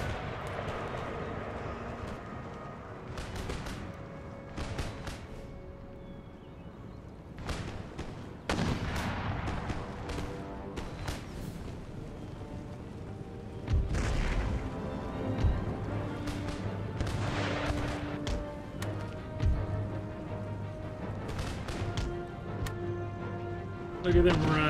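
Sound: artillery fire in Empire: Total War video game

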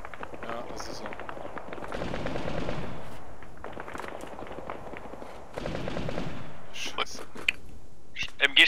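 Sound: machine gun fire in video game ArmA 3

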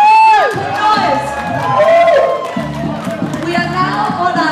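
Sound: crowd cheering and clapping for a band at gala dinner

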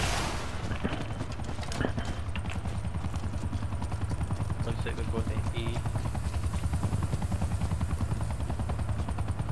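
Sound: exfil helicopter in the Call of Duty Black Ops Cold War video game

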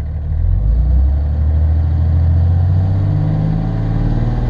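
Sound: Cummins common rail diesel engine revving to 2,500 RPM

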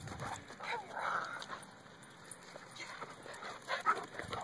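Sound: happy dog off the leash

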